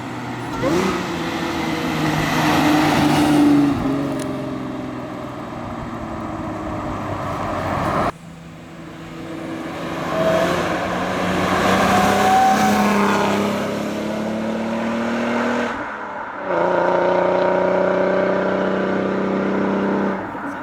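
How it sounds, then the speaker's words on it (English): A deep exhaust on a Mercedes Kompressor car revving repeatedly, heard from outside, with rising and falling engine pitch across several throttle pulls; loud and fairly close. "I'll put a sound clip up of my car from the outside."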